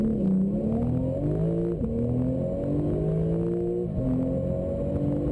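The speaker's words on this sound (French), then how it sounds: "Une Porsche 911 Turbo." A Porsche 911 Turbo engine revs hard through the gears, rising whine climbing in pitch, dropping at each shift and climbing again, loud and close.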